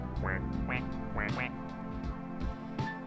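A person imitating a duck with their voice, giving a run of loud, close quacks in a quick uneven rhythm over a steady low background hum.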